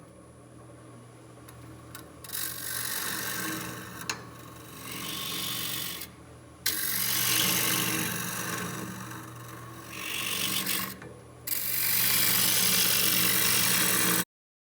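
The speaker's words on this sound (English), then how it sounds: "to do the hollowing, I'm going to use my hollowing tool, and probably a combination of the bowl gouge as well." A hollowing tool cuts into a black cherry bowl spinning on a lathe, a steady rasping scrape that comes in several bursts broken by short silent gaps, close and moderately loud.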